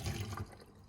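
Water drains out of an opened tin of peeled new potatoes, a brief close gush and pour that fades away quickly, with no talking.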